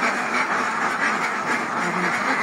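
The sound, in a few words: ducks quacking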